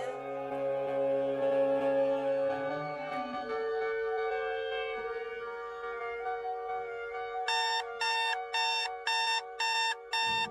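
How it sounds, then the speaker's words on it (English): An alarm clock in a radio drama rings in rapid, loud repeated bursts near the end, following a stretch of sustained music. "Oh, forgot to turn the blasted alarm off."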